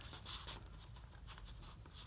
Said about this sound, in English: Now take your scissors